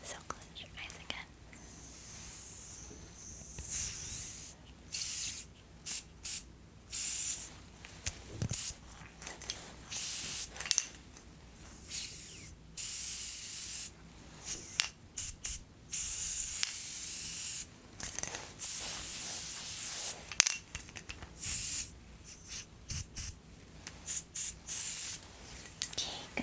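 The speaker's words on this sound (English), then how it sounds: "I'm going to be misting an extra layer of some hydrating spray onto your skin to protect it." Short hissing bursts of a hydrating facial mist spray come in repeated, irregular puffs during a gentle barbershop and spa session, close to the microphone, with quiet pauses between them.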